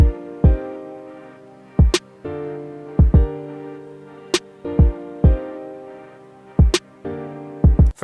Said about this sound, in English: the first thing I added was a kick and a snare